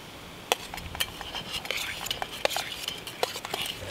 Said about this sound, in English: In with the onions and sausage.